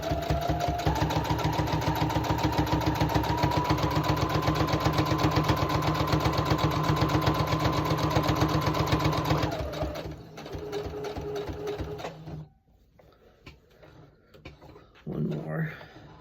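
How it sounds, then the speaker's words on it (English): A domestic sewing machine stitches a quilt-as-you-go project in a fast, steady mechanical whir for about nine seconds, then slows, stops and gives a few short bursts, with quiet handling noise between. "Okay, so now I'm just going to sew."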